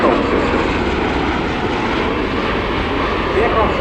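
A Bell Boeing V-22 Osprey tiltrotor flies at the Royal International Air Tattoo airshow, giving a steady, loud, broadband engine and rotor roar that holds evenly throughout under a narrating voice.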